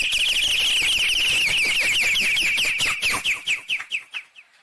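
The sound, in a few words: performer imitating a bird call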